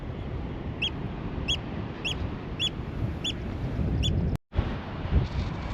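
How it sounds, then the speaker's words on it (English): A seabird near its nest on the Faroe Islands gives six sharp, evenly spaced calls roughly every half second over steady wind noise, followed by a brief gap and a wind buffet. "That bird over there is attacking me."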